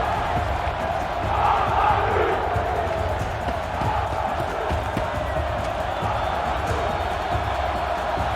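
A crowd cheers in the video game Horizon Zero Dawn, a steady, even roar of many voices holding at a constant level for over eight seconds.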